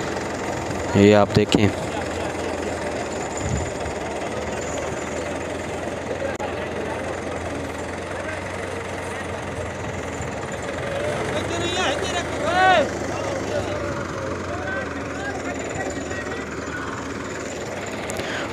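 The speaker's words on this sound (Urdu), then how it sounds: "یہ پتھر بڑا جو ہے وہ کھینچ رہے ہیں ٹریکٹر کٹ سے" Tractor engine chugging steadily while pulling a large stone on a damaged village road near a bridge in Pakistan, a continuous mid-pitched rumble with a few louder knocks, and someone talking over it.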